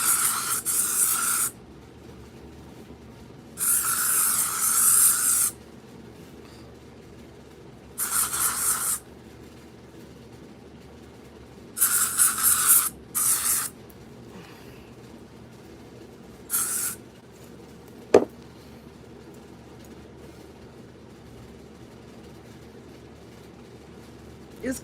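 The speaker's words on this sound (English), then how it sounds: "It's crazy how long you gotta hold your breath when spraying that shit." Aerosol spray can released in several separate bursts of hissing, each lasting about one to two seconds, with pauses of quiet room noise between them and a faint voice in the background.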